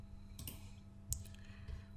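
A computer mouse clicks a few times, quiet and sharp, with a faint steady hum underneath and no talking.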